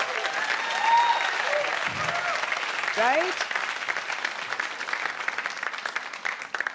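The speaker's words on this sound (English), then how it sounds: "So let's have like a round of applause just for ourselves." An audience at a women's event breaks into applause, broad clapping that swells and carries on under a voice speaking over it, with a brief tonal sweep partway through.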